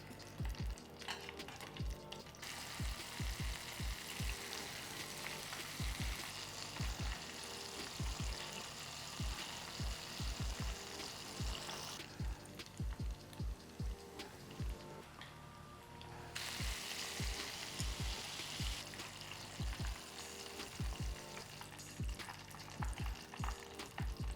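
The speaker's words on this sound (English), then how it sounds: "then I'm gonna continue frying these" Steady crackling sizzle of vegan "chicken" frying in oil, with frequent sharp pops and occasional bursts of louder hissing, close and continuous.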